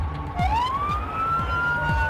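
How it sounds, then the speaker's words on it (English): A Kansas City, Missouri police car siren winds up and wails loudly, close by, during an evening call response, with a repeating low engine or horn pulse underneath. "Siren on and lights flashing, you really can't miss them."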